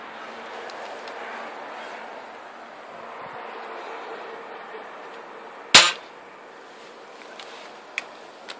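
A second PSRM-2-55 air rifle shot with a JSB 0.475 g pellet fired through a chronograph: one sudden sharp crack after several seconds of quiet background hum, with a faint click afterward.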